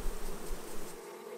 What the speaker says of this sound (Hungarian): Óvatosan lerázzák és lesöprik a szorgoskodó méheket a lépről.